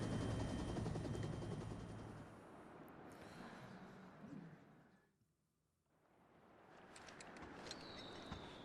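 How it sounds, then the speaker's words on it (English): A giant helicopter in the video game Final Fantasy VII Rebirth, a heavy rotor thrum with gunfire-like bursts that fades to near silence before the noise swells back. "It's a giant fucking helicopter."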